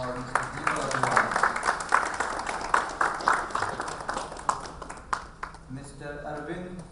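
Audience applause at a healthcare leadership forum panel, rhythmic clapping from a hall crowd blended under an announcer's amplified voice, with the voice carrying on after the clapping thins out.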